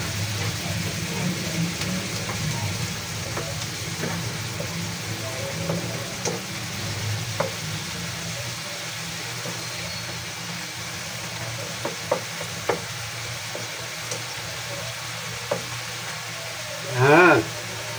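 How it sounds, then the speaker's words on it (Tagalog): Ground pork sizzles and fries steadily in a pan for sisig, a soft continuous crackle with occasional stirring taps and a brief louder scrape near the end; no talking. "antayin lang po natin na maluto yung ating giniling"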